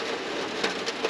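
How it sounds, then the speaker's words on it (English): Steady rain patters on a van roof at night, a dense, even hiss with a few slightly louder drops, close and alone. "But I love sitting here when it's raining. I love the sound."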